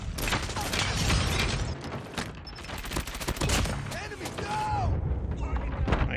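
A PPSh submachine gun fires in Call of Duty in dense rapid bursts with mechanical clatter, close and loud, alongside other in-game gunfire and a player talking.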